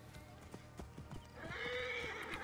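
Hooves clop in a quick rhythm in Assassin's Creed Origins, followed by a horse's loud whinny over them.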